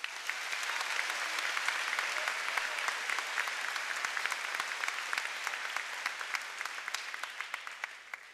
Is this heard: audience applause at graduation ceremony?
yes